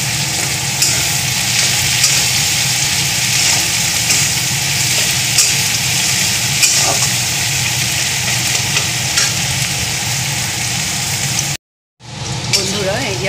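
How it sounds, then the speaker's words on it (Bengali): Onions frying in a pan with green chillies and crushed garlic for homemade chili chicken, a steady dense sizzle running nearly throughout, with a short break near the end before it resumes. "এই যে আমার পেঁয়াজটা এটা ভাজা হয়ে গেছে, দেখো লাল করে ভেজে নিয়েছি"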